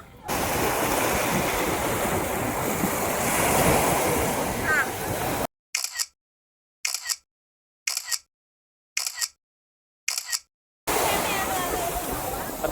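Ocean surf rolling onto the beach at Isla Verde, a loud, continuous wash of breaking waves with wind buffeting the microphone, cut partway through by a stretch of silence broken by short bursts before the surf returns.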